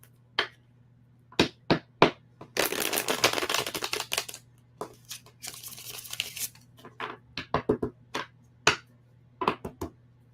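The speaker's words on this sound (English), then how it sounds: "I need one more shuffle." Tarot cards being shuffled during a reading: bursts of riffling and papery flutter alternate with sharp taps and snaps of the deck, close and fairly loud over a low steady hum, with no talking.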